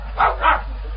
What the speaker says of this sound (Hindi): सोच के भौंकता मेरे पे, सोच के भौंकता छत्तिया ना जा कुत्ते का